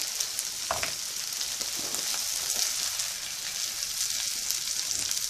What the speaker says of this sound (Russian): И на сковороду в остатки этого же масла отправляем обжариваться печенку.